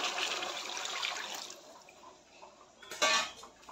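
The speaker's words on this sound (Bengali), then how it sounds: "এখন একটু জল দিয়ে দেবো" Water poured into a hot cooking pan gives a broad hissing splash through the first seconds, fading to a softer simmer, with a brief sharper burst of sizzle and clatter near the end.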